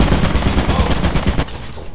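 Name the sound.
turret firing in the video game Lethal Company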